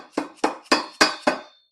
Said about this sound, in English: Let me grab the hammer.